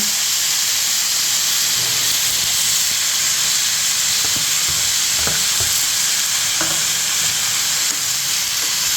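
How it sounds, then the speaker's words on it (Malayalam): Turkey berries and chopped tomato sauté in a hot pan, giving a loud, continuous hissing sizzle with steam and a few soft stirring knocks, no voices. "തക്കാളി വരുന്നതോടുകൂടി നമ്മുടെ ചുണ്ടങ്ങയും വഴറ്റിയെടുക്കാം"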